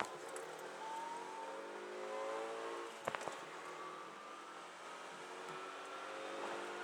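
Mitsubishi Galant VR4 launching off the line in a 1/8 mile drag race, its engine roaring loudly and steadily with pitch climbing as it pulls, broken by a brief sharp clunk midway.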